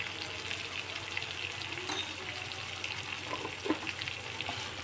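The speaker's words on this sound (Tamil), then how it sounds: "நல்லா பேஸ்ட் ஆகிற அளவுக்கு நம்ம இதை நல்லா வதக்கிடலாம்" Masala paste with garam masala and turmeric sautéing in a pan, a quiet steady sizzle with faint stirring scrapes, no talk.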